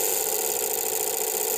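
A car engine driven by an ECU simulator holds around 2500 rpm with a steady buzzing drone and a slight rough flutter, close and continuous with no talk.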